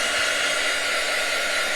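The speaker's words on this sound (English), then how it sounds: "I'm holding the dryer away from my transfer so I don't let it hit the transfer" A hair dryer blows steadily on a chalk transfer, held a little away from it, giving a loud, constant whooshing roar with no breaks and no talk.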